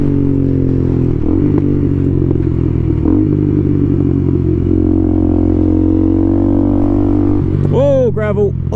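A KTM Duke 390 motorcycle with a harsh exhaust rides over gravel, its steady engine drone close and loud with scraping, clattering crunches underneath and a quick rev change near the end, where a voice briefly speaks.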